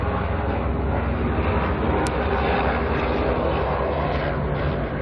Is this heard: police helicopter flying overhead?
yes